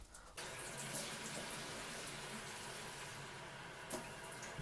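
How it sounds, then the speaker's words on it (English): A water tap runs in a steady, quiet gush while a water bottle is refilled before a gym trip, the flow continuous throughout with no voices. "Need to refill this water."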